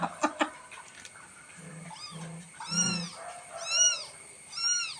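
A tiny kitten, newborn with its umbilical cord still attached, gives several thin, high, wavering meows that rise and fall, close by and clear, after a few brief clicks and soft thumps, with no talking.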